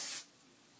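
Hairspray sprayed onto hair in a single short hissing burst lasting about a fifth of a second, close and fairly loud, then quiet.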